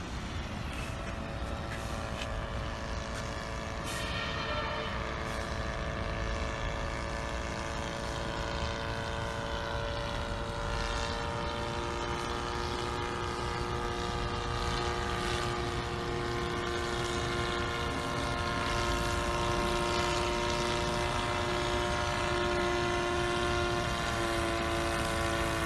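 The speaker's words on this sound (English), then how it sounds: "the helicopter will fly to this home location here" An SK1000 UAV autopilot helicopter flying back to its home position, its rotor and engine producing a steady, loud, droning whine with sustained harmonic tones that rise slightly in pitch, continuous throughout with no talking.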